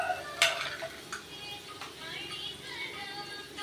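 Salt-free dried black nightshade berries (manathakkali vathal) fry in hot oil for a traditional kuzhambu, a soft close crackling sizzle with a brief scrape near the start.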